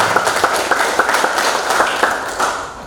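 Audience applause at a leadership training session in Bekasi, a burst of many hands clapping briskly and evenly, fairly loud and close, fading slightly toward the end.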